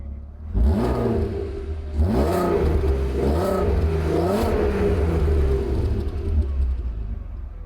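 A Volkswagen Golf V6 4Motion engine runs close by, rising and falling through several strong revs over a steady idle, loud and without talk.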